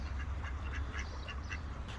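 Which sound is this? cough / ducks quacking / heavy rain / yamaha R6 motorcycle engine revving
ducks quacking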